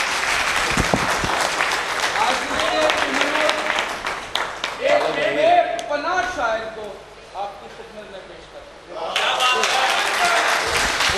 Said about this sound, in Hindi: उनके लिए भरपूर तालियां बजाएं।